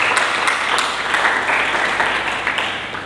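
A church congregation applauds for Jesus, a loud, dense burst of many hands clapping together, sustained throughout and fading slightly toward the end.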